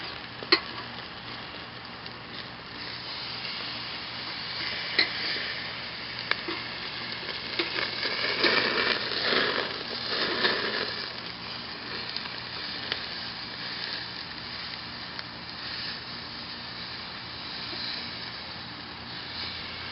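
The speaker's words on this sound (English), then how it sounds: "Alright, these steaks are cooking up." Chuck eye and tenderloin steaks sizzling on a Weber Smokey Joe Silver charcoal grill: a constant crackling hiss throughout, swelling briefly midway, with a few sharp pops and no voices.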